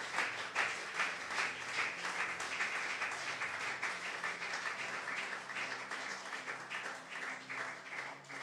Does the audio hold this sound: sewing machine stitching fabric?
no